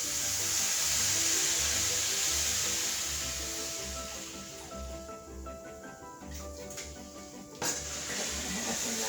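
Vegetable stock poured into a pan for vegan lasagna, a steady liquid rush with a soft sizzle and some light clinks of the pan, with no talking.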